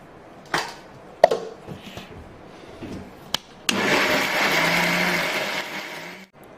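Electric kitchen mixer grinding coarse black pepper, a few short loud pulses first, then a sustained, steady whirring grind for several seconds before cutting off abruptly.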